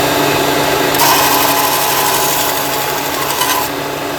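A belt sander's motor drones steadily as a scrap piece of aluminum is pressed against the belt, adding a harsh, gritty grinding for a few seconds before easing off, close and loud, with no talk.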